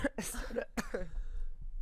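Several harsh, close coughs in quick bursts, with a voice murmuring between them.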